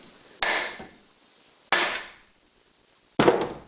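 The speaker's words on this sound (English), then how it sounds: "I take my Computane hammer and hit the rotor assembly" A hammer strikes the rotor assembly of a Honda EV6010 generator three times, each a sharp, loud metallic blow that fades over about a second, evenly spaced with quiet gaps between.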